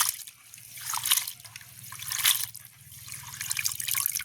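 Medium-sized prawns being washed by hand in water to clear away dirt, heard as a steady close trickle and slosh with soft splashes rising in three brief surges, alone with no talking.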